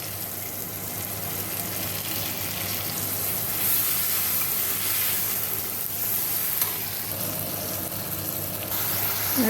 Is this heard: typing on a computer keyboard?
no